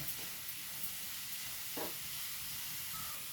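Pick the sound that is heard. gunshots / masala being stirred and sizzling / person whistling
masala being stirred and sizzling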